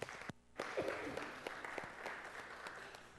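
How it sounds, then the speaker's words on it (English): Audience applause at a district conference, a broad steady wash of clapping that starts after a short pause and holds fairly even throughout, moderately loud with a brief vocal sound near the start. "give yourselves a round of applause for that"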